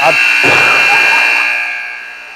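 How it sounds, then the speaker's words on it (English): A loud, harsh scoreboard buzzer at a girls' varsity ice hockey game blares close by, holding steady before fading out over about two seconds. "that's an aggressive buzzer."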